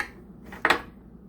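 A big low-carb pancake with brown butter and syrup is folded and cut on a plate, giving one short utensil scrape and clink against the dish, brief and fairly quiet.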